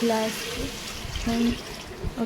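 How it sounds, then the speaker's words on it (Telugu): Water pours steadily into a pot of rice for biryani with a continuous rushing splash while a person talks over it. "గ్లాస్ బియ్యానికి 2 గ్లాసుల నీళ్ళు, అలాగా 4 గ్లాసెస్ వాటర్ యాడ్ చేసుకొని"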